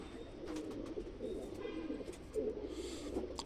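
An older pigeon coos softly at night in a series of low, rolling murmurs, faint and close.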